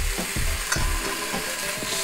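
Salmon, reduced peppers and onions fry in a pan with a dense, close sizzle, broken by a few soft thuds and scrapes as the food is moved around.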